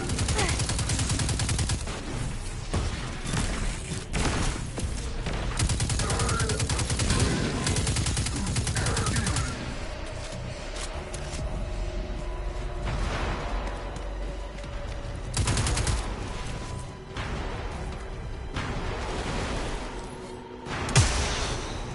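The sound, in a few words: sniper rifle shots in video game Destiny 2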